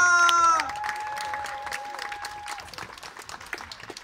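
Crowd clapping for a band at an outdoor town festival, Święto Zgierza, rising after a closing musical chord and continuing as a scattered, moderately loud patter of hands for several seconds.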